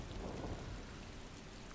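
Rain falls steadily at night as an even, dense hiss, with a low rumble underneath; it is continuous and moderately loud, with no speech.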